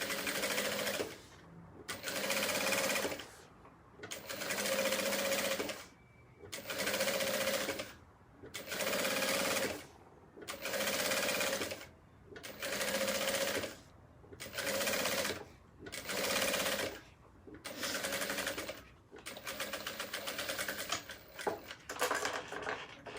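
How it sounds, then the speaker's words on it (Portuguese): Sewing machine stitching a zipper onto an elastic organizer case, running in about a dozen regular loud bursts with short pauses between them, close by and with no talk over it. "Coloco aqui na beiradinha e passo uma costurinha aqui, prendendo os dois."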